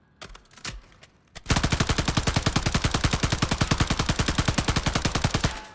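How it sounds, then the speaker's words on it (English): Sustained automatic fire from a light machine gun in a Warzone video game firing range, a rapid, steady stream of loud close shots lasting several seconds after a brief quiet lead-in. "it is an LMG and it's meant for long range, but it absolutely shreds"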